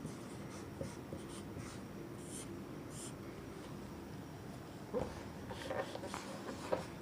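Pen scratching on paper while math is written out, quiet faint strokes and small taps in short clusters over a low steady background hum.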